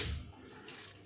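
Tap water runs steadily into a sink while something is rinsed, a soft broadband wash that swells near the end with a louder gush, close by with no talk.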